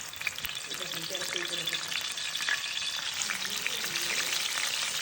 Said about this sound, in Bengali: তেলটা গরম হয়ে গিয়েছে এখন বড়াগুলো দিয়ে দেওয়া হচ্ছে